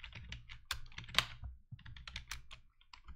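Keyboard keys and game controller buttons pressed in rapid, uneven clusters while someone struggles with an NES-era game, the clicks and clacks close and crisp with short pauses between bursts.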